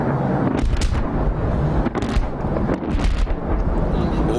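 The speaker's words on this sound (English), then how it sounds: "the F-16s have successfully engaged their targets and are now pulling up to exit the arena" Loud, rolling booms and blasts from F-16 fighter jets striking ground targets during a military air show, several heavy impacts merging into a continuous rumbling roar over about four seconds.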